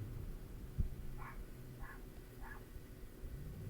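A neighbors' dog barks three times at a distance, faint, evenly spaced yaps over a low background hiss with no one talking.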